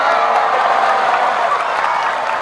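Steady, dense applause from a large crowd at an Islamic shalawat and halal bihalal gathering, filling the whole moment at an even, loud level with some faint cheering mixed in.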